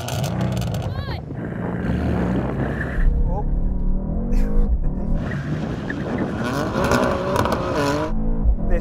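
A BMW M3 Touring or AMG C63 S Estate launches hard from a standstill without launch control, its engine revving loudly and rising through the gears. A person talks over it inside the cabin.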